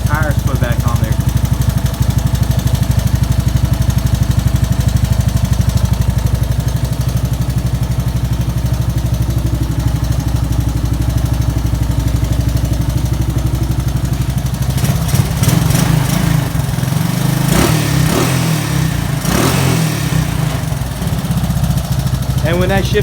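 A 1984 Honda ATC 200s three-wheeler engine idles steadily and warms up with a continuous buzzing putter, and a few sharp revs and clanks break in near the end.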